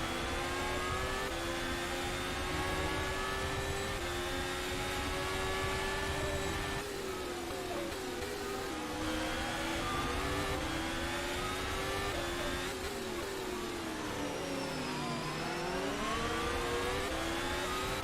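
Onboard race car engine in a sim racing game at San Marino, revving loud and steady with repeated upshifts and downshifts as it accelerates and brakes through corners, no voices over it.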